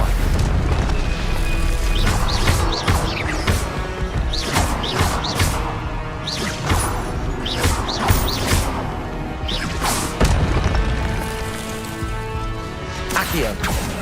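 Stupefy spell casts in Hogwarts Legacy combat: repeated sharp whooshing bursts and crashing booming impacts hit in quick succession, loud and close, over an ongoing backdrop of fight noise.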